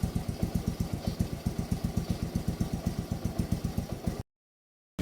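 A Smash motorcycle engine idles close by, a smooth, even, low chugging pulse that stays steady before cutting off abruptly near the end.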